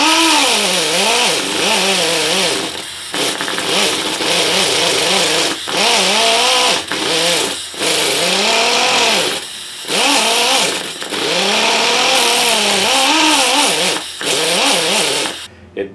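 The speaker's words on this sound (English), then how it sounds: "I am going to chase it up a little bit with the die grinder" A die grinder, turned down to low speed, shapes the neck of a Martin D-16 guitar, its motor whining in repeated bursts that swoop up and down in pitch with brief pauses between passes, loud and close.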